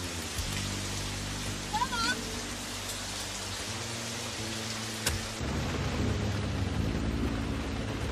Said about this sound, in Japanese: 日が落ちてから降り出した雨が